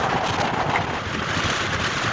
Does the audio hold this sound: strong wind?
yes